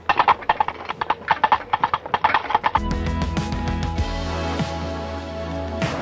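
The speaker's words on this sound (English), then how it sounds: "the sounds of those horse hooves" Hooves of a horse clip-clop along a street in Victoria on Vancouver Island, a crisp, evenly paced series of close knocks for nearly three seconds before broadband traffic and street noise takes over.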